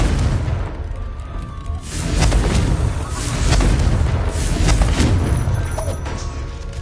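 Confringo fire spell explosion in Hogwarts Legacy: loud, booming blasts swelling over several seconds with a rumbling low end, sustained and close.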